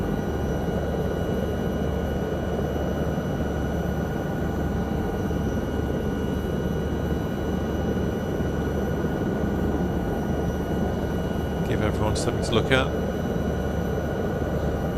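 In a flight simulator game, a Lama helicopter flies near Conington Airport, Peterborough, its steady, droning rotor and engine noise running continuously beneath someone talking.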